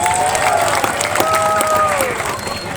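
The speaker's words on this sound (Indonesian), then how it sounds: "Tepuk tangan semuanya." A crowd at an RX King motorcycle club anniversary gathering in Sanggau applauds, with dense clapping and some cheering running steadily for nearly three seconds, while voices mix in over a tonal background.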